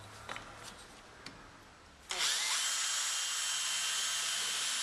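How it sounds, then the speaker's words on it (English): A power drill bores a wider clearance hole into a piece of timber: a few quiet knocks and handling sounds, then the motor spins up sharply to a loud, steady high whine that holds until the end. "So into the drill first goes the wider clearance hole drill."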